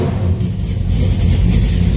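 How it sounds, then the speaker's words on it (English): A cold car engine is revved to check throttle response, a steady low rumble filling the whole stretch with no pause or talk. "Let's see what the throttle response is like."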